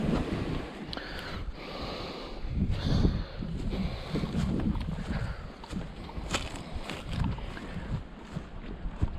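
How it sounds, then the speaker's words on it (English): Steady gusty wind buffets the microphone beside the South Holston River on a spring fishing outing, a broad low rumble that swells and eases continuously, with faint water movement underneath and no talking. "It's a bit windy."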